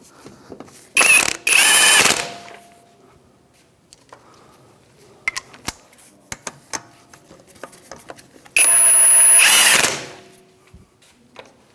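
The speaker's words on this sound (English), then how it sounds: "So with the 17mm socket, we'll go ahead and snug up these bolts." A power tool fitted with a 17mm socket snugs bolts on a 2007-2013 Mitsubishi Outlander during front inner tie rod work. It gives two loud, close whirring bursts of about a second each, with scattered metallic clicks and taps between.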